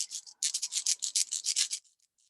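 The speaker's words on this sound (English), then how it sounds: "when I use a metal file, which you could get at any hardware store, this is how I used to do it" A hand-held metal file rasps against a small dentalium shell in quick, rhythmic strokes, about a dozen close, scratchy passes in a row that fade into a few lighter scrapes.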